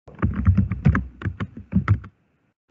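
Rapid keystrokes on a computer keyboard while entering numbers into a PowerPoint slide, a close, clear run of about a dozen clicks over two seconds before stopping.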